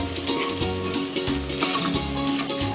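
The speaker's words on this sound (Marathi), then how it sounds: "आता आपण हळद, गरम मसाला आणि धनिया पावडर हे सगळं टाकून देऊ आणि थोडं 5 मिनिटं परतवू" Turmeric, garam masala and coriander powder fry with chillies in a pan, giving a steady close sizzle over repeated low rumbling thumps from stirring. No one talks.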